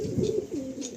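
A black tournament-quality pigeon coos close by in a quick series of low, rolling, throaty pulses, moderately loud and alone.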